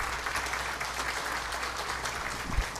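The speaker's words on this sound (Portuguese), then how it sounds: "Saudar aqui o ex-prefeito Sérgio Salvani, que eu peço uma salva de palmas." Applause from the audience at a formal solemn session celebrating a town's 150th founding anniversary: dense, steady clapping from many hands, moderately loud and continuous.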